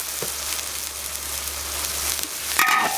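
Minced meat stir-fried in a wok after a splash of cooking wine, a steady broad sizzle running throughout with a brief louder scrape and hiss near the end.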